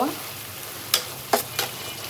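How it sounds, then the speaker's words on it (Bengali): A spoon stirs shrimp and Malabar spinach stems through spice paste in a pan, making three short, close scraping strokes over a faint, steady sizzle. "এখন একটু নেড়ে চেড়ে দিব"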